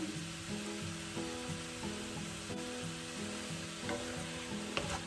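Vegetables for pasta sizzle steadily while being stirred in a pan over a gas flame, with a continuous frying hiss and a few scraping stir strokes, close up and with no talking.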